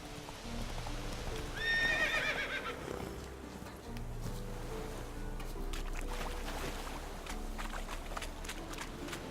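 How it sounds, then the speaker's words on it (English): Roach, the horse in The Witcher 3, lets out a clear whinny amid steady clip-clopping hooves and game ambience, the neigh rising briefly above a continuous bed of low background sound. "Roach knew I'd screwed up. Did you hear the whinny?"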